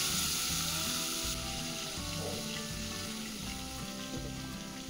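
Brinjal with turmeric drops into hot oil in a pan and fries with a loud, busy sizzle that settles into a steady crackling hiss, close up and with no voices.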